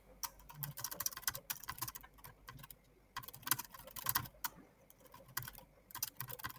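Rapid typing on a computer keyboard, close and fairly quiet, in irregular bursts of clicking keystrokes with brief pauses between runs.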